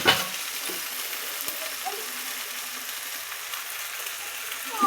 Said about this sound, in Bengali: অনেকক্ষণ সময় ধরে এঁচড়টা কষি নিয়েছি